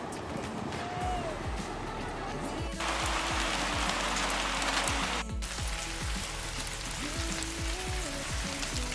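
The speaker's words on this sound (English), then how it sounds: "the rain was relentless, and that was our cue to leave" Relentless rain falls on an Alaskan river during a fishing trip, a dense, steady hiss of drops striking water and surfaces close by, with scattered heavier patters and a brief surge in the middle.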